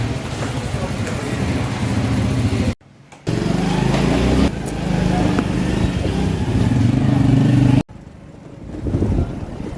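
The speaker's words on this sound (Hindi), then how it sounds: "तो कज़न बाइक भी ले आए हैं" A motorcycle engine runs loudly up close with a steady buzzing drone, cut off briefly twice, while people talk over it.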